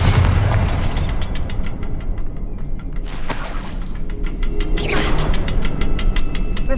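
A Bombarda spell explodes in the Hogwarts Legacy video game, landing as booming blasts with bright crackling bursts over a dense, loud wash of game sound that never lets up.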